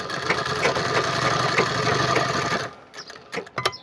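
Sewing machine stitching the pocket opening of a Punjabi sherwani, running steadily for nearly three seconds before stopping, followed by a few faint handling clicks.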